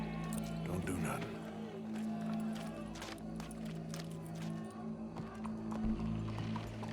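Horse hooves clip-clopping in Red Dead Redemption 2, a steady gait of soft, regular hoof falls carrying on under a game soundtrack and ambient noise, with voices talking over it.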